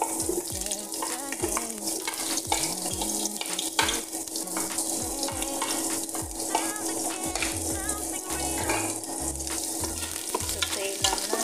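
Onions sautéing in a hot pan for spicy oyster-soy chicken wings, a continuous close sizzle with frequent scraping strokes of a utensil and no talking.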